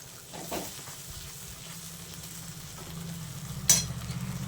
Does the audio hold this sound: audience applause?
no